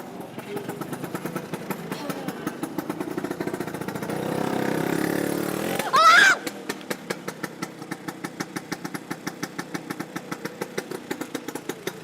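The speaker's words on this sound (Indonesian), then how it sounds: "Kayak suara motor elang." A motorcycle engine idles with a rhythmic chugging, revs up briefly with a rising whine, then settles back to a steady putter.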